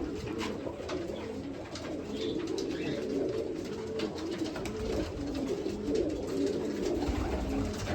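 Pigeons or doves cooing steadily amid a busy mix of bird calls, continuous and fairly close, with a constant low background hum, inside a bird shop holding canaries.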